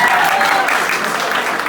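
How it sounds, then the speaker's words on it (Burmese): Audience applause breaking out at a talk, steady dense clapping from a crowd throughout, fairly loud and close, with a faint voice underneath. "FA တွေအတွက်လည်းဝမ်းမြောက်ဝမ်းသာစွာနဲ့လက်ခုပ်တီးပေးကြရအောင်"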